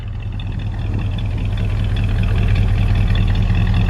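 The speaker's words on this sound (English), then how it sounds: "let me let you hear the engine." A 1955 Chevrolet 3100 pickup engine idles with a steady, deep rumble close by, holding an even rhythm throughout.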